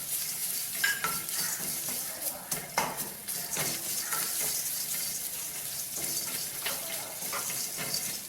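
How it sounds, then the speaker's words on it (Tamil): Soft sizzling and scraping in a pan as grated coconut is stirred and roasted dry, with occasional clinks of a utensil against metal. "இப்போ நம்ம தேங்காய் பூவையும் சேர்த்து இதை வறுத்துக்கும்."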